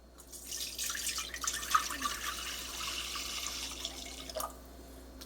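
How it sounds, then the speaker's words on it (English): Enchilada sauce is poured into a cheesy beef enchilada casserole, making a steady, close liquid pour that runs for several seconds before tapering off. "Enchilada sauce. I'm not going to pour all of it"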